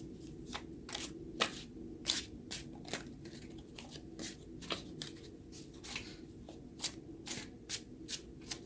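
Tarot cards being shuffled by hand, a steady series of crisp riffling snaps and soft slides repeating about twice a second, close and fairly quiet, with no talking.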